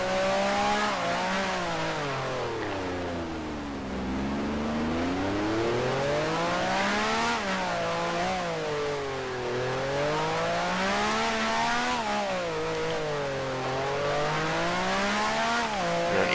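A 1960s Grand Prix race car in Grand Prix Legends at Monaco braking hard into Mirabeau, its engine note loud and steady, swooping down as it decelerates and then climbing again in repeated waves as the revs rise and fall.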